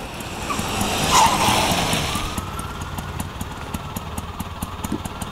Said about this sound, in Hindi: भाई गाड़ी रोको भाई।